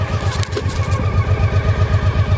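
A 1995 Honda PC800 Pacific Coast motorcycle engine idles steadily and close by just after starting, its low, even pulsing thrum running throughout with no one talking.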